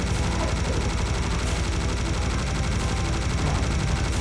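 A minigun in the video game Serious Sam fires nonstop, a loud, dense, rapid rattle of shots running unbroken from start to finish, with faint speech underneath.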